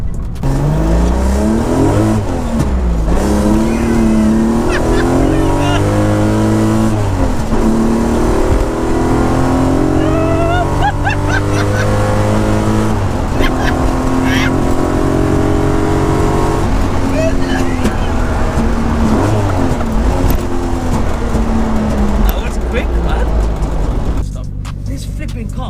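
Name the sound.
carbon Mk1 Golf G60 race car engine revving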